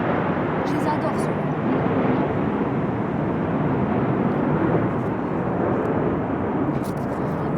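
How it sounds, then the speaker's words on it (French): Mirage fighter jets passing overhead make a broad, continuous roar that holds steady for several seconds, with people's voices faintly in the background. "Vous savez pourquoi on entend les avions de chasse de là-bas?"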